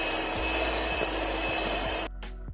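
An electric hand beater whirs steadily through eggs and powdered sugar for a vanilla sponge cake, a loud continuous motor drone with faint scraping knocks against the bowl, then it switches off abruptly near the end.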